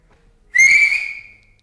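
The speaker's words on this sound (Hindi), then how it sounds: "सीटी भी बनती थी तुम्हारी, आती है तुम्हें? एक बजाओ, बजा दो।" A person gives one short, shrill whistle at close range, a single bright held note that fades after about a second.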